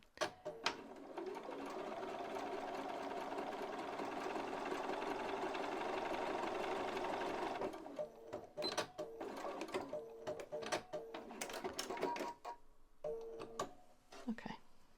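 A sewing machine stitches a bias-cut woven neckline facing to fabric, right sides together, running in a steady, close, even whir for several seconds, then stopping and giving way to short bursts and clicks of handling.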